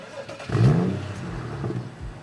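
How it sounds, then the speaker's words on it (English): A BMW M235i engine cranks and catches, rising to a loud rev before settling into a steady idle, close up. "let's start the engine actually"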